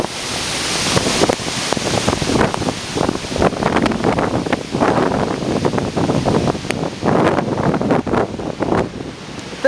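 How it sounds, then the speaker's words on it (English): Hurricane Ike's winds gust hard during landfall, a continuous roaring rush of wind buffeting the microphone with surging peaks and no let-up, loud and close throughout. "Winds probably gusting about 65, 70 right now."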